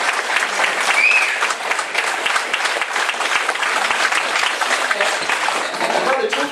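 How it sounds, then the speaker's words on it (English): Sustained round of applause from a meeting audience of New Hampshire taxpayers, dense steady clapping filling the room throughout, with faint voices mixed in. "we can't let him go without a rousing round of applause for all that he's done"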